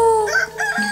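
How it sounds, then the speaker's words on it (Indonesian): A rooster crows once, a loud, close cock-a-doodle-doo lasting about a second. "Ayam jago pun tertipu dengan suasana itu dan berkokok keras-keras."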